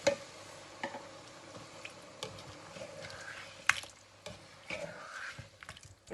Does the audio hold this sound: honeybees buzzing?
no